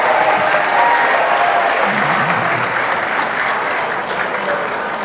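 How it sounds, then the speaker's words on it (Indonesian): Students in a classroom audience clap for a classmate at an entrepreneurship talk, producing a loud, sustained wash of applause that stays even and fades slightly toward the end. "Tepuk tangan sekali lagi buat teman kalian"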